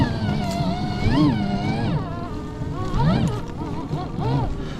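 An Arctic Leopard snowmobile in snow revs its engine again and again, the pitch rising and falling in repeated throttle swells, loud and close.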